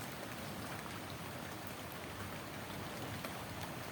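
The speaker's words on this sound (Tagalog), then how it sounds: "Lakas ng ulan dito sa amin, oh." Heavy rain pours steadily on a flooded rural area with submerged banana plants, a dense continuous hiss close by with no voices.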